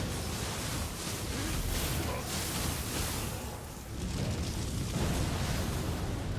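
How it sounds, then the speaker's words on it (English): A fiery blast in a video game roars as a dense, continuous rush of explosive noise, loud and close, swelling and dipping briefly before surging again. "If that fire explosion was any closer to me, that might have been an L."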